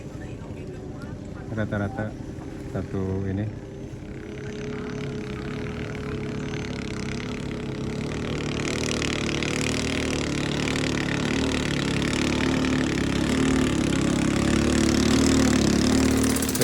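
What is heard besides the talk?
speedboat with 200 outboard motor departing and engine running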